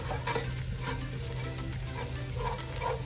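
Bagoong sautéing with garlic and onion in a hot pan, a steady, close sizzle and crackle running throughout with occasional stirring scrapes and no voices.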